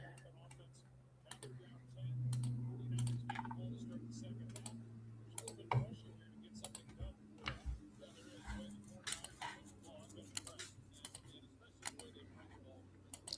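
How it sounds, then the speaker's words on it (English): A computer keyboard and mouse click in irregular bursts while a football game scoreboard is updated. The crisp taps and clicks sound close, with a low hum underneath and a voice talking now and then. "A lot of clicking here."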